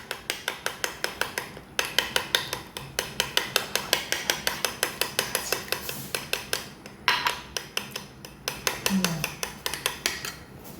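A spoon stirs hot chocolate in a pan, making a steady, fast run of metallic scrapes and clinks, about four strokes a second, close and fairly loud throughout with no talking.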